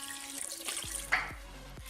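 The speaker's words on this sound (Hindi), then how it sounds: "ये ऐड करने के बाद हमने तकरीबन हाफ कप पानी लिए" Water runs from a tap or jug into a pot for dum chicken biryani, a steady pour with a few small splashes and drips, close and fairly quiet, with no talking.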